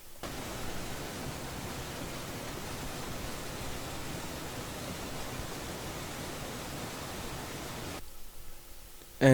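Dense, steady layered ambient texture, time-stretched into a smooth noise-like wash that holds evenly, then drops away near the end with a brief faint tone.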